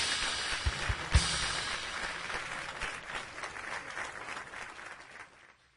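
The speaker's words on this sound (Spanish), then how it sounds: "Alguien dele un aplauso al Señor bien fuerte." A church congregation applauds the Lord in a sustained burst of many hands clapping, dense and fairly distant, with a few sharper claps near the start before the sound slowly tapers off.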